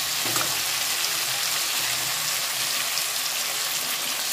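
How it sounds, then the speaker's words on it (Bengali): Potatoes sizzle steadily in hot oil with panch phoron and green chili, a continuous close crackling fry with no talk over it. "পাঁচফোড়ন দিয়ে কাঁচা লঙ্কা দিয়ে ভাজা ভাজা করছি।"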